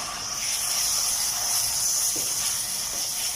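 Chicken pieces frying with onions in a pan give off a steady, even sizzle and hiss that carries on unbroken throughout, close and moderately loud, with no talking over it.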